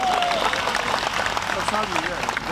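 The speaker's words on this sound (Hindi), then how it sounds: "आप बजाइए, ताली बजाना होगा" Audience claps at a devotional talk on Hanuman, a dense steady patter of many hands under a speaking voice throughout.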